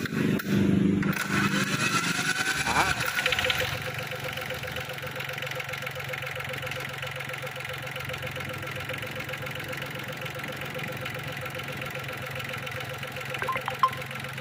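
A Yanmar 3T75 diesel engine in good condition starts with a rough burst and then settles into a steady, close idle with a low rhythmic chug that runs on to the end.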